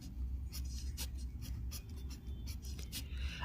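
Pen scratching across a question paper in brief, irregular strokes, faint and close against a steady low hum, with no talk.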